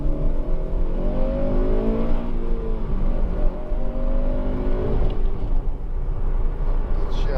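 A 2007 Honda Civic Type R GT three-door hatchback with a 2.0-litre i-VTEC engine revs steadily while driving, its loud, sustained note rising and falling through gear changes inside the cabin.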